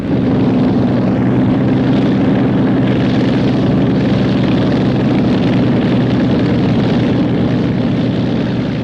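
Aircraft engines on planes arriving in the UAE desert, a loud, steady, continuous drone with a low rumbling hum and no pauses throughout.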